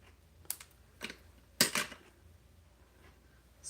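A few crisp snips and clicks from trimming an artificial flower stem, a light cut, then a louder double snip, close and quiet in a still room.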